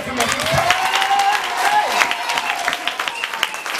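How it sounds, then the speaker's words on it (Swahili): A church congregation claps together in a burst of applause, dense and fairly loud, with a voice calling out over the clapping. "Piga Yesu makofi mazuri."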